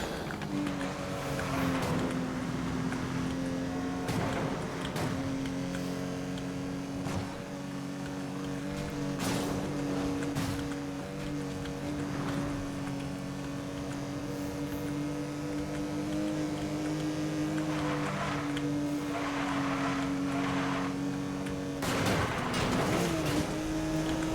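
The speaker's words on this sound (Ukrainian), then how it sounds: "як звучить ця тачка" A sustained, droning car engine in the racing game Need for Speed: Most Wanted (2012), with steady tonal harmonics, holding a constant pitch with occasional brief bursts, loud and continuous throughout.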